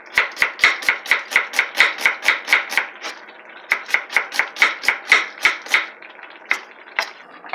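A knife chops half an onion on a cutting board for a Korean cucumber salad: a quick, steady run of about twenty crisp, close knocks, a brief pause, then another run ending in a few scattered chops.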